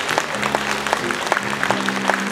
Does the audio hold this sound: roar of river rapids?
no